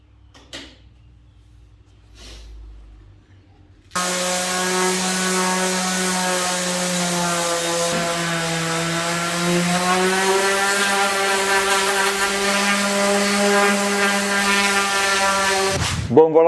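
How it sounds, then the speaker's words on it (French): Electric sander working over wood for a homemade coffee table, a loud steady motor whine with a strong constant hum running unbroken for about twelve seconds after a quieter start, then cutting off abruptly. "plan B, je vais faire avec la ponceuse"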